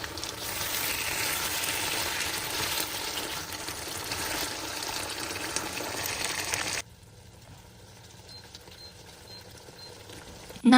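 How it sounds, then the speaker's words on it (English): Korean rib sauce bubbling and sizzling as it reduces over raised heat, a close, busy frying crackle that drops abruptly to a much quieter simmer partway through, with a brief clatter at the very end. "Turn up the heat slightly. Let the sauce reduce until thick and glossy."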